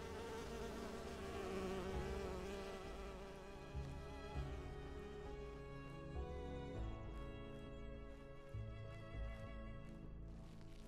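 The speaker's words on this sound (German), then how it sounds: "Wir suchen mal den Bienenstock," Bees buzzing around a beehive in the video game Enderal, a continuous droning hum with fluctuating pitch that stays steady and close for about eleven seconds, with no speech.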